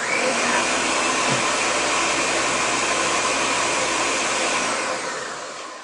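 A blender pulverizing canned tomatoes roars steadily at full power, a loud continuous whir that holds level and then begins to wind down at the end.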